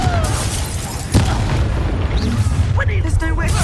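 A Confringo blasting curse bursts in Hogwarts Legacy, a sudden booming impact about a third of the way in over constant battle ambience, with shimmering spell effects later and a person talking throughout.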